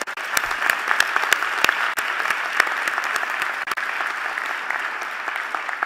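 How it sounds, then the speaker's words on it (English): An audience at a university presidential installation ceremony breaks into sustained applause, dense and even clapping throughout that fills the room at steady volume. "Please give her a round of applause."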